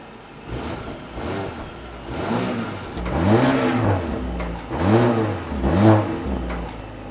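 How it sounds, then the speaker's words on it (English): A 2021 Polestar 1's 2-liter turbocharged and supercharged four-cylinder engine revs up repeatedly, rising and falling in several strong, close bursts over a steady idle. "this car uses a 2-liter 4-cylinder turbocharged and supercharged engine"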